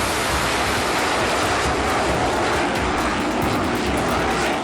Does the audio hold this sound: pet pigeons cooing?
no